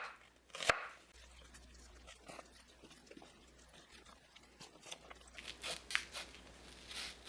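Onion being sliced 0.5 to 0.8 cm thick with a knife for bulgogi, heard as a sharp close knock followed by light, scattered crunchy cuts on a board.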